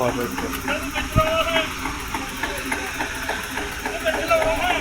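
A tractor idles at a tractor fair in Talwandi Sabo, its engine chugging steadily in the background while someone talks over it.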